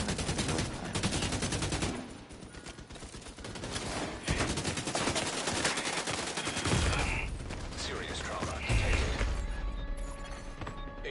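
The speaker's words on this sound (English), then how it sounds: "Fucking shotguns." Dense, continuous gunfire from a Dark Zone video game battle, shotgun blasts among rapid overlapping shots and bursts that keep up loudly for the whole stretch, with crashes and mechanical clatter mixed in.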